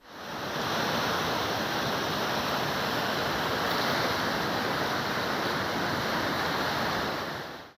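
Taşkale creek in Adıyaman's Sincik district overflowing after heavy rain, a loud, steady broadband rush of floodwater that roars continuously throughout without a break.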